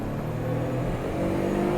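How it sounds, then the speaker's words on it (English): A 1999 Suzuki Carry turbo kei truck pulls out into traffic in first gear, its small engine giving a steady, close droning hum that builds slightly in pitch and strength over the short stretch. "I'm gonna slip out in traffic here. In first gear, in the Turbo Carry."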